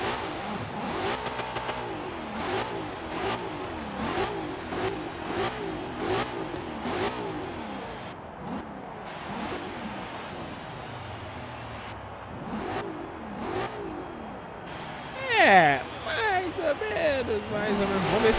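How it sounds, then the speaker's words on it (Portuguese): A car engine in Forza Horizon 3 revving repeatedly in sharp rising bursts, loud and close, with excited talking over it and a final harder rev near the end. "vamos escutar o ronco do motor"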